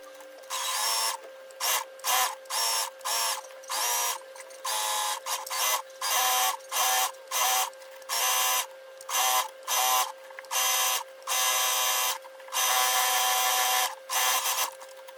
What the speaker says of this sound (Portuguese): E agora eu vou costurar toda a volta com margem de meio centímetro.